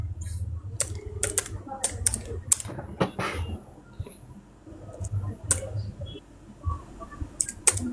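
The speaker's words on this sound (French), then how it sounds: "il faut taper Jésus de Lyon sur la barre de recherche Google là" Keys clack on a computer keyboard as a search is typed into Google, quick irregular bursts of close clicks with short pauses, alone with no talking.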